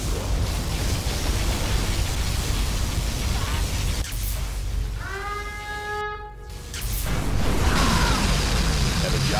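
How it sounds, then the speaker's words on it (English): A particle cannon in Command & Conquer Generals charges with rising synthetic tones, then fires in a heavy rushing blast over constant noisy game ambience. "Particle cannon activated."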